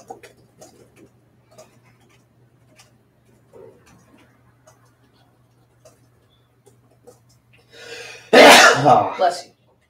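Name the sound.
sneeze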